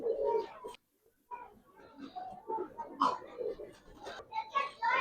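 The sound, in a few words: pigeons cooing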